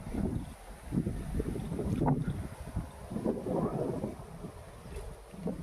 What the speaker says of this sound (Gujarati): જુઓ ફૂલે ફૂલ પવન છે.